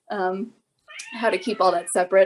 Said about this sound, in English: I don't know if you can hear it, but my cat is meowing